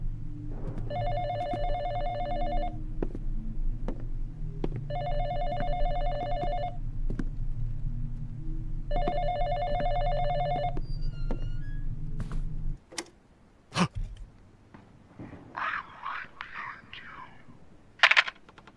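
A telephone in the horror video game Exanimum: The Silent Call rings in three long electronic bursts with pauses between, loud and close over a low ambient hum, then stops before quieter game sounds follow.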